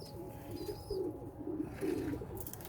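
Pigeons coo in low, throaty rolling bursts, several repeated calls close by and fairly quiet, with a faint high bird chirp and light background noise.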